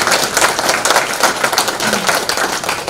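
An audience gives loud, close applause to the Gyeongsangnam-do education superintendent at a 2017 Hamyang education meeting, with brisk, dense clapping throughout.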